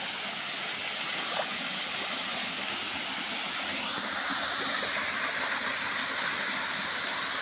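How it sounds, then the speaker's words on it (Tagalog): Long waterfall, a broad continuous rushing roar of falling water, steady and enveloping with no breaks. "Mahaba yung falls na to."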